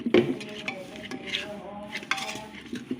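Cooked lentils being mashed in a pot with a utensil, with soft squelching stirs and a few clinks of metal against the pot, nearby and fairly quiet with no talking.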